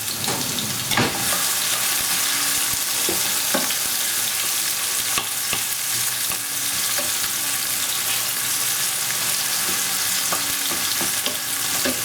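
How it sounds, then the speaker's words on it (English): Onions brown in a hot pan for spring roll filling, giving a loud, continuous sizzle and crackle with occasional stirring clicks. "we're just going to add the onions to this and let the onions brown."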